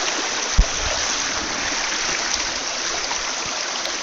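A stream flows steadily nearby with a broad, even rush of water and faint trickling, and a single soft knock early on.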